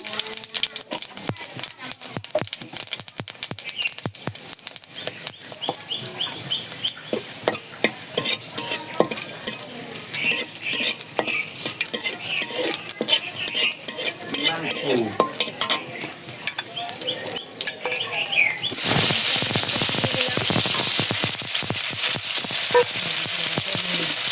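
Whole cinnamon, cardamom and cumin sizzle and crackle loudly in hot oil while a spoon stirs, the frying hiss swelling into a steady roar toward the end, no talking.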